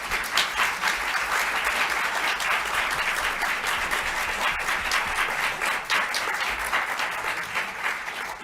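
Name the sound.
applause at a press conference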